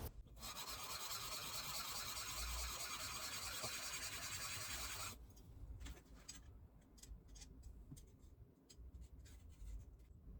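The sole of an ABOHR No. 5 hand plane is rubbed over 100-grit sandpaper glued to a flat granite base, giving a steady, close, rasping scrape for about five seconds, followed by lighter, intermittent scratchy strokes and small taps.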